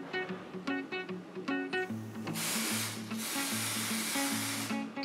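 An aerosol can hisses in a steady, close spray for a few seconds, with a low rhythmic hum beneath and brief pauses between bursts.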